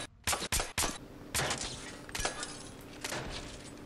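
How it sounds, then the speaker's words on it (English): Gunfire in Splinter Cell Blacklist: several sharp, loud shots in quick succession, then a longer stretch of rapid bursts with breaking and shattering debris, close and dense. "I'm shooting things."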